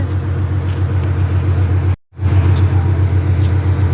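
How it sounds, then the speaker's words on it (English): A steady low engine rumble from a ferry boat, continuous and fairly loud with a broad hum, briefly cut out for a moment midway before resuming unchanged. "It's a ferry, See. ferry."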